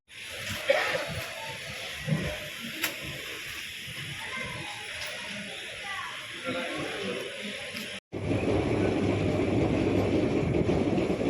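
A train rolls along near Hosur in the morning, its steady rumble and clatter carried under continuous background noise, then swelling suddenly louder and closer for the final few seconds.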